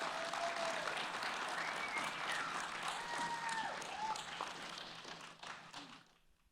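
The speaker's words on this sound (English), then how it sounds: "Can we please have one more round of applause for the 2023 Trinity Prize educators?" An audience applauds the 2023 Trinity Prize educators at an awards ceremony, a dense, steady wash of clapping that holds strong for several seconds and then thins and fades toward the end.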